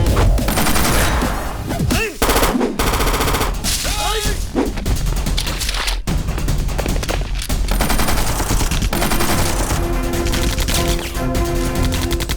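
Loud, sustained gunfire from a dubbed South Indian action film, with bursts of automatic fire and booms over a dense music-and-effects soundtrack that fills the whole stretch, with only a brief dip near the start.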